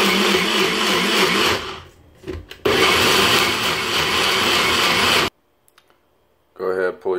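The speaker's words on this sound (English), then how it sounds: "Got your NutriBullet, go ahead, cover it now, and screw down." A NutriBullet blender whirs loudly and steadily as it blends orange pieces into juice, pausing briefly midway, then cutting off to a quiet moment before a short burst of speech at the end.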